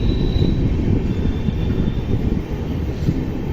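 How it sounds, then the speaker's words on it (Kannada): A local EMU train passes alongside on the line out of Bengaluru, a steady broadband rumble of wheels and carriages close by, continuous without pauses. "ನೋಡ್ರಿ ಯಾವುದೋ ಒಂದು ಲೋಕಲ್ ಎಮು ಪಾಸ್ ಆತ ನೋಡ್ರಿ"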